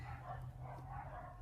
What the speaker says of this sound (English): the neighbourhood dogs are going crazy